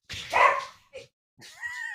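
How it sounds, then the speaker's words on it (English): Dogs bark in the background: a rough burst of barking, a short yip, then a high, wavering whine. The sounds are moderately loud and come in separate bursts. "Dogs are riling up back there."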